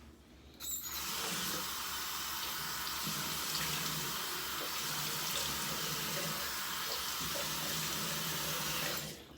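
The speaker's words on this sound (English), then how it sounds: "Splash some water on my face, see what happens." Water runs steadily from a bathroom sink tap before a wet shave, a continuous close hiss and splash lasting about nine seconds, then cut off.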